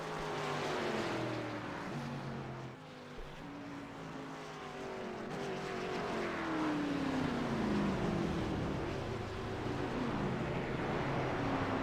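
Stock race cars in the iRacing game at Dover roar past in succession, with engine pitches sweeping down as they pass, alone at a steady moderate loudness.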